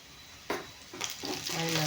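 Onions frying in a pan, a low sizzle that grows louder, with a few soft stirring scrapes close by and no voices.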